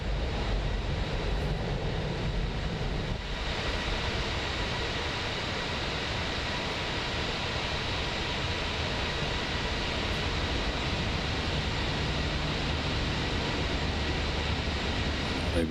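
An Airbus A320 landing into Vancouver in Microsoft Flight Simulator 2024 gives a steady, broadband engine and wind roar that stays loud and unchanging throughout, with no talking.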